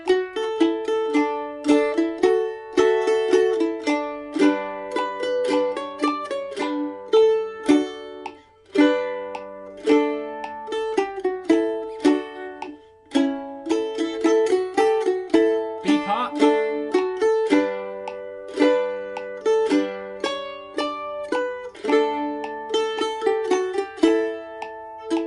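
A mandolin plays a harder arrangement of a melody, quick plucked notes in a steady lively rhythm with brisk tremolo-like repeated picking, close and clear, solo with no talking over it.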